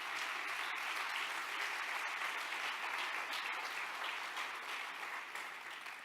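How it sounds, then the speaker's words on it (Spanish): Church congregation applauding together, a dense, continuous wash of many hands clapping that holds steady and tapers slightly at the end, with no voices rising above it. "Dele un buen aplauso a Jesús"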